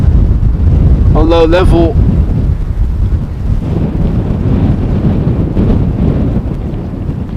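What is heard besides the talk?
strong crosswind blowing at Amsterdam Schiphol airport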